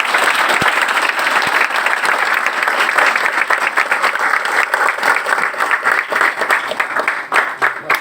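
Applause from a large audience honouring leaders at a Modicare business event, dense sustained clapping filling the whole stretch at steady volume with no talk over it.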